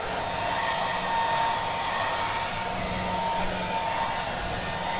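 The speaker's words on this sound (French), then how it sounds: "mon rôle va être de la réchauffer encore une fois avec cette fois un sèche-cheveux" A hair dryer warming a baby Ural owl, blowing steadily, a loud continuous whooshing hum that stays constant throughout with no voices.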